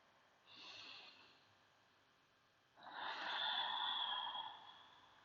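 A slow, full yoga breath drawn in softly around half a second, then a longer, stronger airy exhale from about three seconds, close and breathy with no talk.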